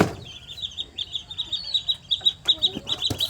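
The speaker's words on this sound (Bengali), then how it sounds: "এখন বড়ো মুরগিগুলো ছেড়ে দিলাম এখন সবাই মিলে একসঙ্গে খাওয়া দাওয়া করছে" Chickens cluck close by as a feeding flock, with quick, high, repeated chirps overlapping in a busy, irregular rhythm.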